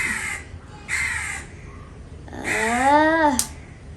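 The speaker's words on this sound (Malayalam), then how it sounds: "കാക്കച്ചിയുടെ സൗണ്ടൊക്കെ കേൾക്കും" A crow caws three times, each call loud and close, separated by short pauses, with the last caw longer and more drawn out.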